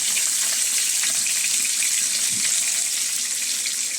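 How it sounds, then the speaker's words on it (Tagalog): Ginger and onion sautéing in a pan for a home-cooked ginataang gulay with tilapia, giving a steady, even sizzling hiss close by that holds for the whole stretch with no talk. "ginigisa na po natin"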